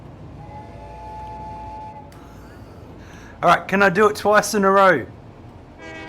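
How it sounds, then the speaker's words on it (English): In the Satisfactory video game, a train's Easter egg horn rings out as an old-fashioned steam whistle, sounding in several quick loud toots with a steady tone before them, over faint background hum and a brief voice. "There's an Easter egg horn that is an old-fashioned whistle."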